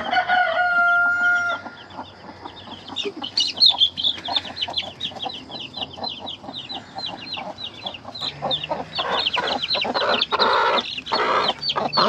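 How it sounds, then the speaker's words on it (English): Chickens in a backyard pen cluck and call steadily while a rooster crows near the start, a dense, lively layer of nearby fowl chatter with no talking. "So these are original chickens that we got almost 2 years ago."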